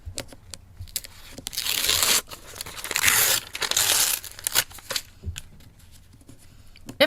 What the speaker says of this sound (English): So I'm going to rip it all the way.